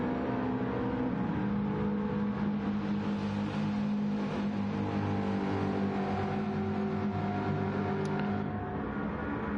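Several race car engines in a sim racing endurance game, a steady dense roar of engines running close together through a corner approach, continuous and loud with no talk.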